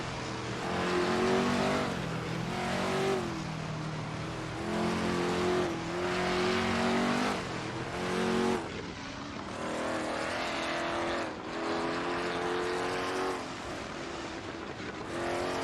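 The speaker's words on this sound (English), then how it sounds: "Stay tuned as we continue to watch these R-driven cars battle it out on the track." Race cars lapping Road Atlanta in a racing game, several engines droning and revving in repeated surges as cars pass and shift, loud and continuous without talk.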